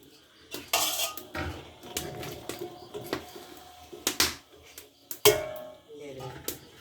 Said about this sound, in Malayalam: വെള്ളം തിളച്ചതിലേക്ക് നമ്മളത് ഇടുകയാണ്